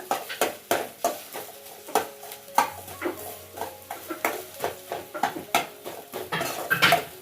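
Green chillies being stir-fried in a pan for idli manchurian, with a spatula scraping and clanking against the metal in a steady, repeated rhythm, close and clear with no one talking.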